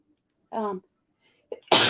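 A faint voiced sound, then a short intake of breath and a sharp, loud sneeze bursting out at the end.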